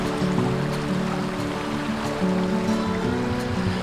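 Stream water flowing steadily beside a bridge at a trailhead in Morgan Monroe State Forest, Indiana, a continuous close gurgling wash with low tonal hum mixed in, no voices.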